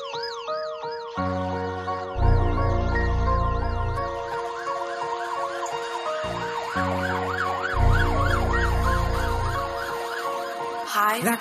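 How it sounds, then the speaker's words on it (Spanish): Police-style sirens wail in a Spanish-language street song, their rising and falling tones looping steadily over heavy bass and beat for the whole stretch, loud and up front in the mix. "Sirenas lloran en luces de torretas."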